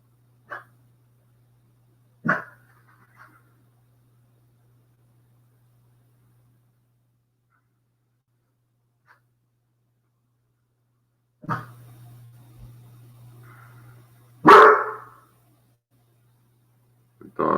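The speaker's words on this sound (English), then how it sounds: "The dog's getting a little excited." An excited dog gives a few scattered, short barks and yelps indoors, separated by long quiet gaps, with a faint steady hum underneath and one louder burst near the end.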